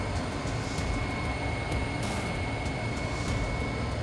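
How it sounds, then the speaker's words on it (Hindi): Military helicopter flying past at a NATO base, a steady loud broadband rotor and engine roar holding throughout with a constant high whine, no talk over it. "मेरे दाईं तरफ आ गया है हेलीकॉप्टर और दोनों आपस में समन्वय बनाकर चल रहे हैं।"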